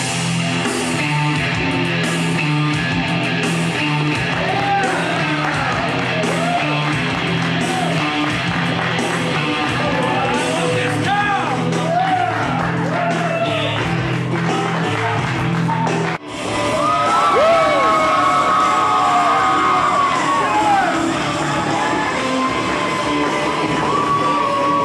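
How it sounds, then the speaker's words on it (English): A wrestling arena crowd roars and yells continuously at loud volume, a dense wall of cheering with shouts rising above it, briefly dipping before surging again. "The sound of the crowd in this arena is absolutely deafening"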